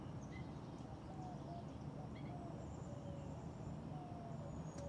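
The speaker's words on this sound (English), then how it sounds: "When the birds are singing, you know it's going to be a beautiful sunny day." Birds sing in the morning, scattered faint chirps and short whistled calls over a steady outdoor background hum, distant and soft throughout.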